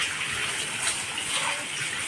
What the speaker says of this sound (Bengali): মামি এখনও ধুয়ে চলছে